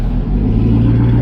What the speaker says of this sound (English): The fucking Camaro's ripping.